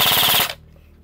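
Krytac MKII Trident SPR airsoft rifle firing a short full-auto burst, a rapid loud rattle of about seven shots cutting off abruptly into quiet.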